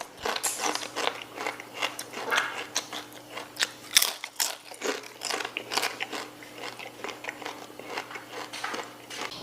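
Giant cassava chips are bitten and chewed, producing repeated crisp crunches and crackles, close and moderately loud, with no talking.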